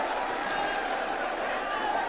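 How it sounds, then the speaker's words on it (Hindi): Crowd at a political rally clapping and cheering in a steady, dense wash of applause that holds at full level throughout. "जोरदार तालियां बजा के आदरणीय नारायण सिंह जी का आप स्वागत करें"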